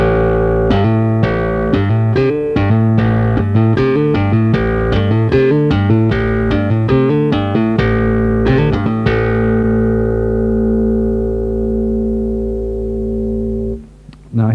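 A bass guitar sounds an open A and then runs through a fast repeated note exercise, loud and close, before a long sustained note rings out and fades near the end.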